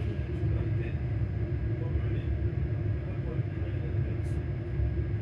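A Hitachi Class 385 train runs between Haymarket and Edinburgh Waverley, heard from on board as a steady, loud, low rumble that holds evenly throughout with no talk over it.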